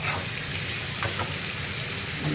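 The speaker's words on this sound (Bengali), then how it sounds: "ভালো করে এখানে কড়াইতে একটু হালকা করে ভেজে নেব" Vegetables fry lightly in a wok with a continuous even sizzle and occasional scraping stirs of a spoon, close and moderately loud, with no talking.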